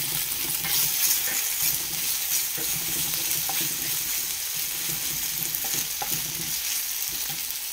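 Vegetables and paste stir-fry in a hot pan for veg noodles, producing a loud, continuous close sizzle with faint scrapes and occasional pops, without speech.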